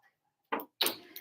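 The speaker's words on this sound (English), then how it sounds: "We can shut the door now." A door is shut in a room where a class is about to begin: a short knock-like bump, then a louder closing bang with a brief trailing rattle, heard close and without talk.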